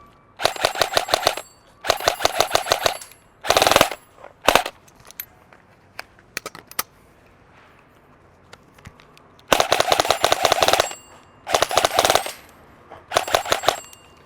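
KWA Ronin 47 airsoft AEG rifle fires several rapid full-auto bursts of sharp mechanical clatter, close and loud, separated by quiet gaps with a few single shots and handling clicks, no talk.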